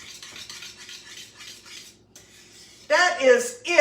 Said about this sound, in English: I'm going to continue stirring it just for a little while for it to get a little bit thicker